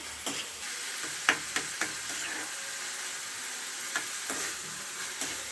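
A ground paste of coconut, green chilli, coriander, ginger and garlic sizzles steadily in a hot pan for a chickpea palya, with occasional sharp stirring scrapes and clicks over the continuous frying hiss.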